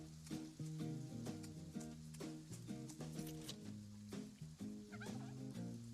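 Chickens cluck in the farming video game Farm Together, a series of rhythmic bird calls repeating over several seconds, clear and close with no talk.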